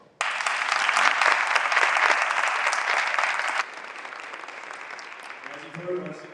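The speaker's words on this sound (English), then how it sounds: "Let's give him a round of applause as well." An audience at a choral conducting masterclass applauds, a dense, loud burst of clapping that holds steady for a few seconds, then drops abruptly to a softer patter as a voice begins speaking.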